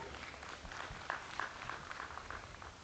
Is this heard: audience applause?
yes